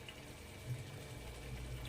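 Hot water, left over from boiling drumsticks, pours steadily into a pot of cooking drumstick curry, a soft continuous splashing and gurgle, close but quiet, with no voices.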